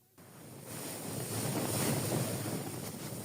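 Atlantic Ocean waves and wind wash past on a ferry crossing from Dakar toward Gorée Island, a broad hissing surge that swells steadily louder and stays continuous, with no voices.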